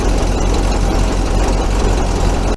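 A VW camper engine idles steadily while warming up, a loud, close, continuous rumble with an even mechanical churn that cuts off abruptly at the end.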